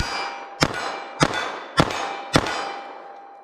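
A .38 Special revolver fires lead wadcutters at a target 12 yards away: four sharp, evenly spaced reports about 0.6 seconds apart, each with a short ringing tail, no voices.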